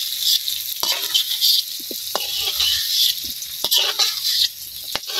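Curry spices sizzle and fry in a pan in a village kitchen, a steady hissing crackle broken by occasional sharp clinks and scrapes of a ladle stirring against the pan.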